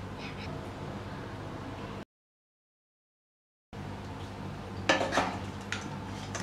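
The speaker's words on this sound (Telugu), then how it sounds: "లెమన్ జ్యూస్ వేసుకొని ఒకసారి బాగా కలుపుకోవాలి" Lemon rice with lemon juice being mixed in a pan off the heat, with a soft spoon clink and scrape near the end after a quiet stretch and a brief silence.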